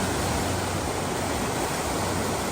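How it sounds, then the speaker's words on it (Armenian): The Pambak river rushes loudly and steadily, a dense, unbroken roar of fast flowing water close by with no voices. "Ես ինչ աղմկոտ է փամբակը։ Շատ աղմկում։"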